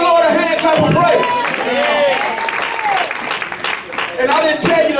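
A church congregation breaks into loud, sustained hand clapping in praise, dense and continuous across the whole stretch, with voices calling and cheering over the applause.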